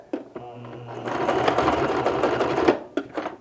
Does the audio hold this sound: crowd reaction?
no